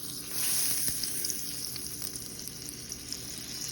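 Oil and butter heat in an iron skillet with a bright, steady sizzle and a few light pops, heard up close for a few seconds without talk.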